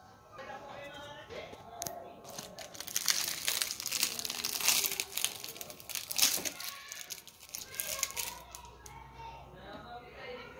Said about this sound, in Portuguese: Ou vou tirar aqui o durex